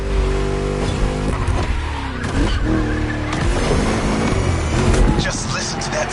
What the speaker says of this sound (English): Just listen to that V8 like a chunky, down-tuned guitar riff.